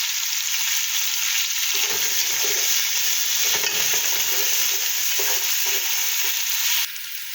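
Garlic and onion sautéing in a pan, a loud, steady close-up sizzle with repeated scraping and stirring strokes throughout, dropping slightly near the end, with no talking.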